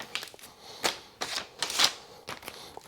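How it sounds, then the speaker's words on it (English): Window film being peeled off its liner, a series of short crackling, ripping bursts with brief gaps between them, close and moderately loud. "then I peel the film off like this."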